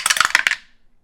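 Dice rolled by hand during a tarot reading, a quick rattling clatter of several small hard pieces lasting about half a second, then fading to silence.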